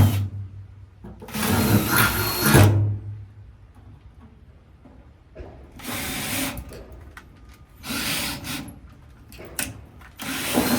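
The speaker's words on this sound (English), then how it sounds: "now I'm just drilling in the holes for where the box is going to be" A power drill bores mounting holes for a box during a teardrop trailer solar and switch panel install, several loud whirring bursts of one to two seconds separated by quieter pauses.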